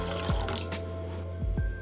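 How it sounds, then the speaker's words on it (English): Cold water poured into a bowl for a collapsing can experiment, giving a few distinct splashes and drips over a low steady hum, close by, with no speech. "pour cold water to the bowl."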